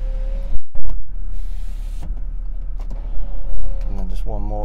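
Electric sunroof motor on a 2015 BMW 335d whirs steadily as the roof opens, stops with a few clunks, then runs again to close, with a voice briefly heard at the end.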